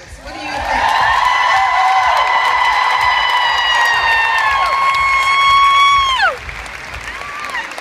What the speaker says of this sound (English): give her a cheer big enough so she can hear it all the way back in Texas